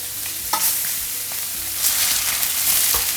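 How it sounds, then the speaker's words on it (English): Fish browning in a pan as butter goes in, giving a loud, dense sizzle with a few sharp spatula clinks and scrapes, close and without talk. "Okay, now we're gonna add in the butter."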